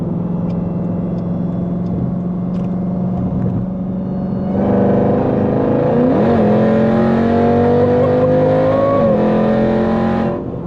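A 1000hp Jeep Trackhawk accelerating hard, its engine drone jumping louder midway and climbing in pitch through a gear shift, a heavy close roar filling the whole stretch without voices.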